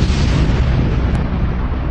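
Colossal explosion on a North Sea oil platform at night, a loud, deep, sustained roaring blast that fills the whole stretch with heavy low rumble and no voices.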